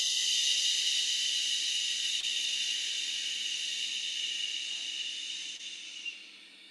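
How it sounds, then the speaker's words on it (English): A steady, loud hushing "shh" breathed out by a group of people, a sustained airy exhale that runs for several seconds before tapering off at the end, with no talking over it. "And then we say, shh."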